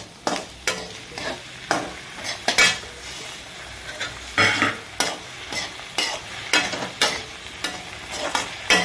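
Onions and tomatoes sizzle steadily in a pan for paneer butter masala while a utensil scrapes and stirs in irregular bursts, with occasional metallic knocks against the pan.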